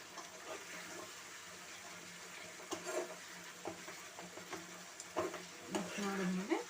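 Vangi bath powder being stirred into a capsicum mixture in a pan, with soft scraping and gentle sizzling throughout and a few sharper spoon clicks against the pan toward the end.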